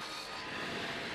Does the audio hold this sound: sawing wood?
yes